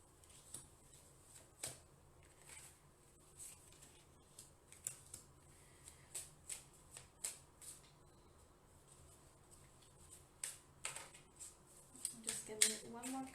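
Tarot cards being gathered and shuffled during a reading: soft, scattered flicks and snaps of card stock, close and faint, in irregular clusters over a quiet room, with a brief voice near the end.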